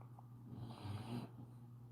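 A dog snores softly nearby, with one slow, rough inhale swelling and fading against a quiet indoor background and no voices.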